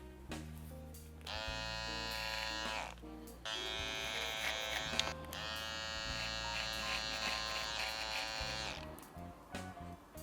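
Old Andis hair clippers buzz in a barber's detailing cut, a close, quiet, steady electric hum that switches on and off in a few separate runs.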